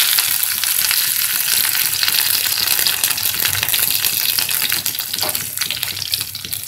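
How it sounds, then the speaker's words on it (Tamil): Curry leaves frying in hot oil for a coriander kuzhambu, giving a loud, steady sizzle and crackle that runs unbroken from start to end with no voices. "இப்போ நம்ம கருவேப்பிலை போட்டுக்கலாம்."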